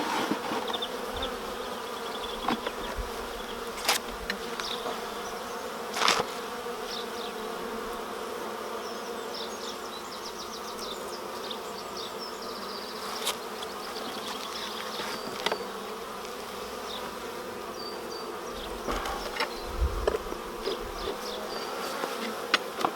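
Honeybees buzz steadily around an opened beehive during work on a honey super, a dense continuous hum with occasional closer bees passing, no talking.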